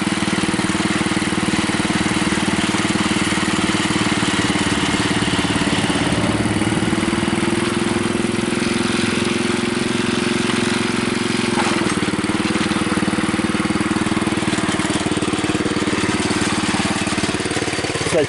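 A Bolens Husky 600 custom garden tractor engine running a little above idle, with a steady, even mid-pitched putter and hum held close and constant, no voices over it.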